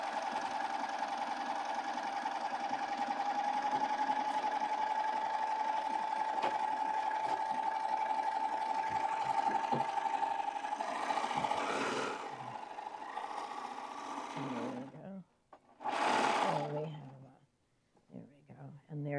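A sewing machine with differential feed stitching a tote bag, a steady whirring hum for about twelve seconds that then stops and restarts briefly, with a voice talking over the later part.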